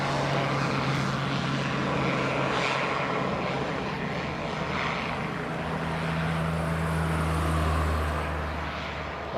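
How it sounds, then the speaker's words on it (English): A Pilatus PC-12 single-engine turboprop makes a short takeoff at Leeds Bradford Airport, a steady loud propeller drone and engine roar held throughout at moderate distance. "Can't beat the PC-12 short takeoffs."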